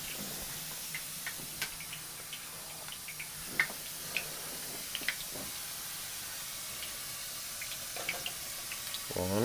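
Hot frying oil crackles and spits with water as breaded pork chops cook, scattered sharp pops over a steady low sizzle, close and fairly quiet.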